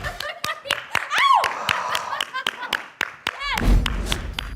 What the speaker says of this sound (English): Becky, this is where you start clapping.